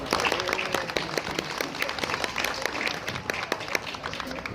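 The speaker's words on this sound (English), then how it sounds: "I think everybody should give a round of applause for that." A school crowd claps for 8th grade lacrosse players, a steady patter of many hands with sharp individual claps, moderately distant, no talking over it.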